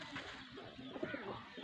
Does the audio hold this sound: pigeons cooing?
yes